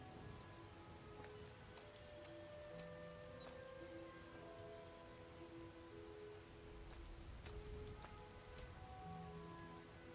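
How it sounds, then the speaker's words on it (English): Rain falls steadily in modded Skyrim, a dense, even patter of drops on surfaces with faint background music tones, continuous and soft throughout. "And now it's raining."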